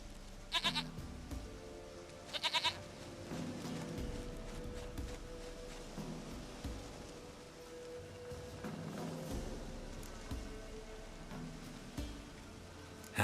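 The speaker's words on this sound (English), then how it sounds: "Goat of mine, dearest, sweetest goat." A goat in The Witcher 3 gives two brief, clear bleats near the start over a steady soft ambient hiss, then fainter animal calls drift in and out of the game background, with no talk.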